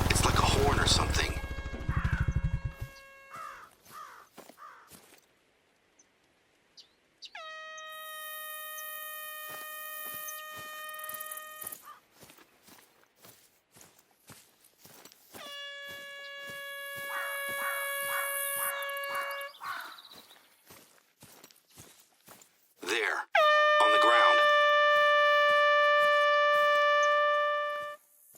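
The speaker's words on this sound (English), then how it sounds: "An air horn app?" A loud, sustained air horn blares in several long bursts with stacked tones inside theHunter Call of the Wild, sounding in the hunting game against an insect-buzzing wilderness backdrop, with a voice speaking briefly before the first blast.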